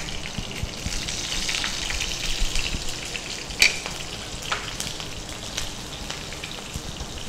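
Green chilies crackle and sizzle in hot tempering oil alongside urad dal for chitranna, a steady close frying hiss with scattered pops and one sharp click, no voices.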